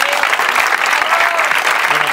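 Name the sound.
audience applause at a poetry protest reading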